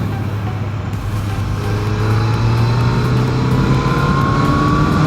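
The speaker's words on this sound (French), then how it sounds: "Là j'accélère à fond, on n'a pas de coup de pied au cul en fait." A Yamaha FZ8 motorcycle in fourth gear is held at full throttle, its engine note climbing smoothly and steadily from a low hum to a higher, louder pitch. The sound is continuous, up close and without talk.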